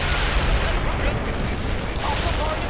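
Heavy artillery barrage in the World in Conflict game, a dense rolling mix of booms and gunfire crackle, loud and continuous from start to finish.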